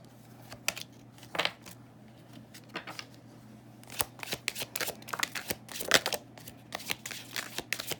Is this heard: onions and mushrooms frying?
no